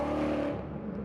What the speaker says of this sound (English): You get the whine of the supercharger.